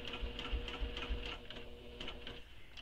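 A sewing machine stitches a crossbody bag with a fast, even mechanical clatter and a low motor hum, close and steady throughout.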